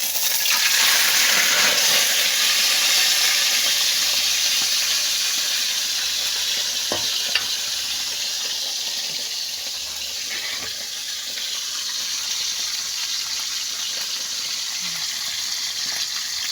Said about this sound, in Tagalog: iprito na natin yung ating ginawang daing kaninang umaga guys